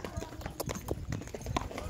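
A horse being ridden on a ranch during a trail ride clops along in steady uneven hoofbeats, fairly close, while someone talks over them.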